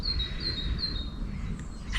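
Small outdoor birds such as parakeets and a robin chirp in faint, thin calls that are partly repeated, set against a low steady outdoor background hum.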